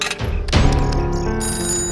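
A mobile phone rings loudly nearby with a bright electronic tone that rises and keeps going, alone with no talk over it.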